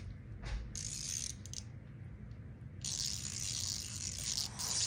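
Tekton stubby ratchet clicking as a socket is fitted, bursts of quick close metallic ratcheting, one short and one longer run, over a faint room background.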